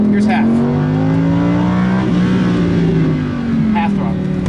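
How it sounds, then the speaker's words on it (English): A 2015 Lamborghini Huracán LP 610-4 accelerates at half throttle, a loud, steady engine roar climbing in pitch from inside the cabin, with people talking over it. "Half throttle."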